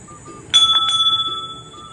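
A bicycle-style bell is rung once as a doorbell, a sharp, close metallic ring that lingers in a shimmering decay over a quiet background.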